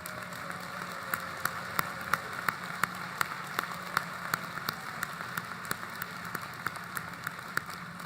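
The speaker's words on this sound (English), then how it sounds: "if you would stand for a moment for a special round of applause" Applause at an economics department commencement ceremony for honors thesis students, heard as a thin, steady patter of clapping with occasional sharper individual claps, moderately distant and sustained throughout.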